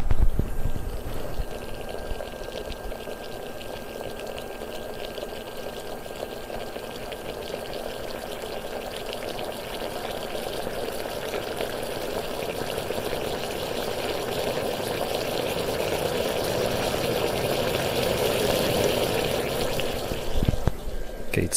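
Steady bubbling and hissing of a stovetop espresso maker on an induction stove with a heat transfer plate coming to a boil, gradually growing louder, with faint clicks at the start and end.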